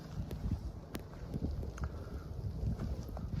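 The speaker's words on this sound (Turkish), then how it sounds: "Rüzgardan dolayı hem sesimiz gelmiyor" Strong wind of a snowstorm on Uludağ mountain roars and buffets the microphone steadily, with gusty rushing noise and scattered faint knocks throughout.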